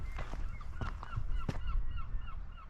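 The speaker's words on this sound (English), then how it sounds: "Yeah, it's got to be seals." Seals call from rocks out at sea along a coastal path between Kingswear and Babbacombe, a series of short honking barks repeating at a distance over wind.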